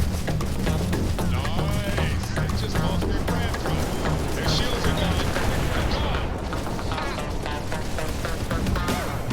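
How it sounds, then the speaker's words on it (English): Ship turret firing in Starfield, mounted at the back of the ship and shooting behind it: loud, dense, continuous volleys of rapid gunfire with a low rumbling bed throughout, under game sound effects. "this turret in the back is like shooting right behind us"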